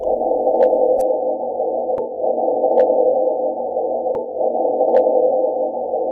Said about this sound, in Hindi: सिस्मोमीटर से रिकॉर्ड की गई इस वेव को मार्स की हवा और वहाँ की सेस्मिक वाइब्रेशन की मदद से रिकॉर्ड किया गया है